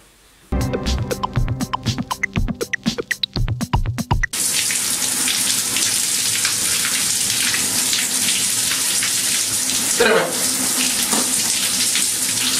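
A shower sputters with quick rapid drips and clicks, then opens into a steady, loud hiss of running water that continues to the end.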